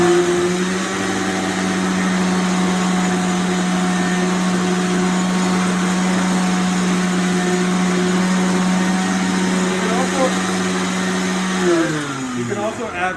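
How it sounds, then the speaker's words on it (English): A blender purees acorn squash soup, whirring steadily at high speed, a loud continuous motor drone that shifts pitch briefly near the end as the load changes. "You can also add water while it's blending, if you can look into your blender and see what's happening."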